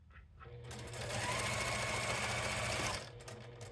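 A sewing machine stitches fabric along a zipper pouch tab, a steady close mechanical whir rising to a sustained run of about two seconds before slowing and stopping.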